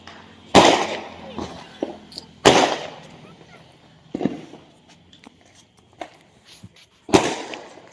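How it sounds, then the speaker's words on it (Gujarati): Colourful sky-shot fireworks set off for Diwali at a family celebration, sharp loud bangs bursting at irregular intervals, several strong blasts and fainter pops, with people talking between them. "સ્કાય શોટ ઓલા 7 વાર ફૂટે કલર વાળો છે"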